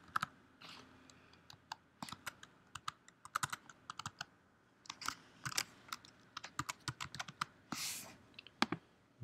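Keys clatter on a computer keyboard as a document title is typed, quick uneven bursts of clicks close by with short pauses between runs, no voices.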